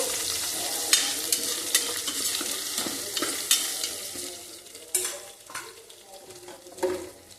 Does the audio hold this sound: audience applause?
no